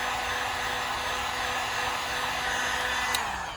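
A heat gun blows a steady, even airflow roar while warming the body surface of a Can-Am Ryker motorcycle ahead of fitting custom badges, continuous and close with no talking.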